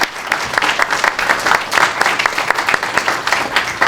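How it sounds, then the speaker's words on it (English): A burst of applause from a crowd at a food distribution center ribbon cutting, many hands clapping densely and continuously at close range. "So give yourselves a round of applause."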